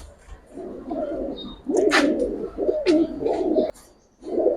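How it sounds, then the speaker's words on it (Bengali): A female pigeon, a Giribaz colouring breed, coos in repeated low, throaty bursts at close range, with brief pauses between calls and no talk over it. "মাদি যে ডাকতেছে এটার মাদি এটা"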